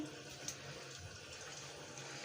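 Salted fish being rinsed under running water in a kitchen, a steady faint splashing flow that continues throughout with no talking.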